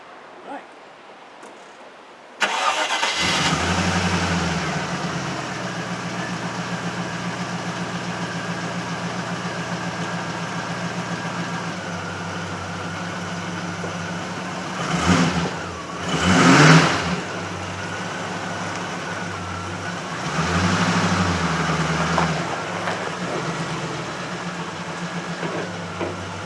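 A Range Rover engine turns over and catches after a short quiet lead-in, then settles into a steady idle broken by several throaty revs, two bunched close together and another near the end, all heard up close.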